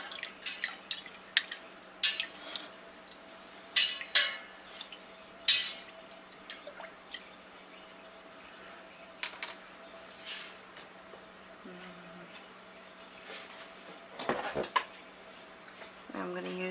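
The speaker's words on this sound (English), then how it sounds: "We're going to mix that all up." Yarn dye powder being mixed with a spoon in a container: scattered clinks and scrapes, some sharp and close, with quieter stretches and a brief liquid drip near the end.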